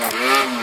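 A Kawasaki Z1 motorcycle fitted with an early Tokyo steel-pipe muffler revs briefly, a loud, close, rasping engine note that climbs in pitch and then eases within a fraction of a second.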